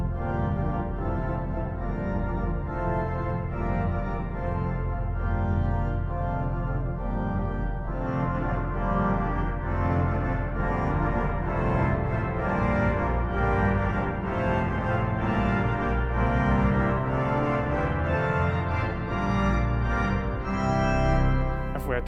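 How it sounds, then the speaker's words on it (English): A 1906 Felgemacher pipe organ sounds its full swell division with all stops drawn except the trumpets, a dense, sustained chordal texture that fills the space loudly and continuously. "let's combine all of these stops to see what the tutti of the swell looks like"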